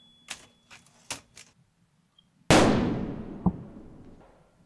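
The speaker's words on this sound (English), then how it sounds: "I hear a gunshot, and I should be getting the hell out of here." Gunshot in the video game Hotel Remorse: a few light clicks and taps, then a single sudden loud blast that rings out and slowly decays with a lingering echo, with a faint thud during the tail.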